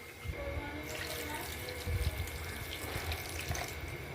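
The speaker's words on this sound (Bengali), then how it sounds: "নামিয়েই ঠান্ডা জল ঢেলে দিয়েছি।" Cold water runs and splashes over freshly boiled sweet corn, a fairly quiet continuous pouring flow with a few louder gushes and no talking.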